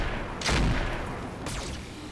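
Mech weapons firing in the video game Roguetech: two sharp bursts with a brief rumbling tail, separated by about a second, loud over a steady background hum.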